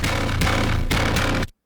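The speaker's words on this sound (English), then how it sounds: "So this is the distorted signal." Hardware synthesizer lead through the Lunacy Audio Volt distortion plugin, a dense, gritty buzzing tone pulsing in three short phrases, loud and upfront, cutting off abruptly.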